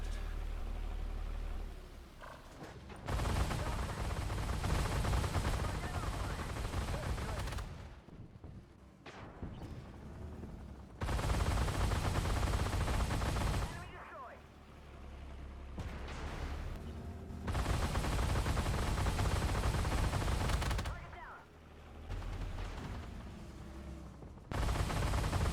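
Flakpanzer Gepard autocannon in a tank video game firing several loud, dense bursts of a few seconds each, broken by short pauses, with no talk over the shots.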